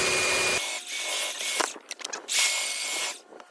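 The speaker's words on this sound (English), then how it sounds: "I'm just gonna belt sand it to fit there" DeWalt cordless belt sander sanding a piece of wood to fit, a close hissing grind that starts, drops out, then returns in short uneven bursts.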